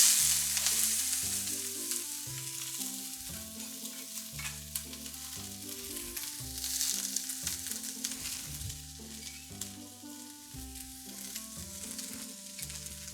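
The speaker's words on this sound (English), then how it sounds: "Now let's take the onions to the pan." Onions frying in a hot pan, a steady close hiss and sizzle that runs throughout under background music with stepping tonal notes.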